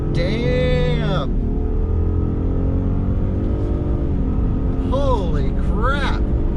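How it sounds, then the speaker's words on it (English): A Ford F-150 PowerBoost hybrid pickup accelerates at wide open throttle, its engine note climbing in pitch under a low rumble, while people talk and exclaim at the start and end. "go wide open throttle, shall we? And flooring it."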